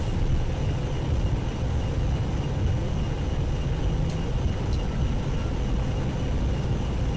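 A ToliSS A319 airliner takes off in the X-Plane 11 flight simulator, giving a steady, loud, broadband engine roar with strong low rumble that holds evenly throughout, with no talking.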